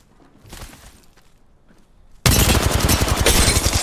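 Gunfire in Apex Legends: quiet shuffling and a faint shot at first, then a sudden loud, sustained burst of rapid automatic fire that continues to the end.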